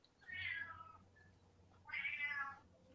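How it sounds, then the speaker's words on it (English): Two drawn-out, screeching cat yowls rise and fall one after the other, fairly close but quiet, with a short pause between them and no voices. "the cats are screeching and stuff too"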